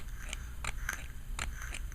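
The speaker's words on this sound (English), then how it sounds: "One thing that I've noticed about the switch, unless you're hitting it dead center, it tends to be a little bit crunchy." The fire switch on a vape mod gets pressed off-center and gives small, crunchy clicks, several quick presses heard close up against a quiet background.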